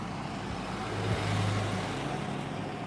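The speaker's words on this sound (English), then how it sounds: "Look at this car pulling up right here, man." A car pulls up nearby, its low engine rumble swelling briefly at mid-clip before settling back into a steady, fairly faint hum with no one speaking.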